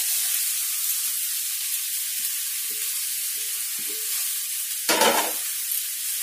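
Spices and salted, pre-fried potatoes sizzle in a pan as they are stirred, a constant hiss with soft scraping strokes and a brief louder burst of sizzling near the end.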